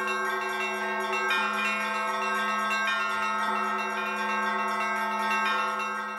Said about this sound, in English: all of a sudden, there was the sound of bells ringing